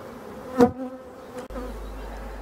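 Honeybees of a good strain hum steadily inside an opened hive during a brood-frame inspection, a low continuous drone with a couple of brief louder swells as bees pass close.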